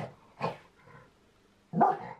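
A dog barks indoors in three short, sharp outbursts with a softer yip between, close and fairly loud against a quiet room.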